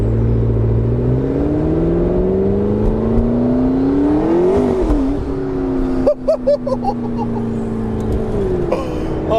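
A McLaren 650S Spider driven with the roof off, its turbocharged engine rising steadily in pitch as it pulls, with wind rush throughout, then sharp crackles and pops from the exhaust near the end, loud and close.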